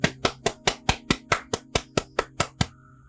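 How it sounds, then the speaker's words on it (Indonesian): One person claps hands alone, about a dozen sharp, evenly spaced claps in a steady rhythm, close and clear, then stops. "Tepuk tangan karena aku puas dengan jawabannya"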